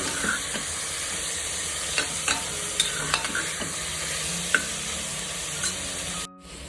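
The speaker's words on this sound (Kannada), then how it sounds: "ಈಗ ಎರಡು ಮೀಡಿಯಂ ಸೈಜ್ ಟೊಮ್ಯಾಟೋನ ಕಟ್ ಮಾಡಿಕೊಂಡು ಹಾಕ್ತಾ ಇದ್ದೀನಿ ಈಗ ಇದನ್ನು ಎರಡರಿಂದ ಮೂರು ನಿಮಿಷ ನಾನು ಫ್ರೈ ಮಾಡ್ತಾ" Chopped medium tomatoes fry and sizzle in a pan for an eggplant curry in a home kitchen, with a steady hiss and scattered clinks and scrapes of stirring, close and without talk until the sound cuts off near the end.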